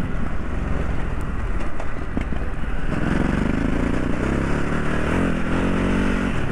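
A Ducati Desert X motorcycle rides along rough terrain, its engine droning loud and close with steady wind rush and some clatter.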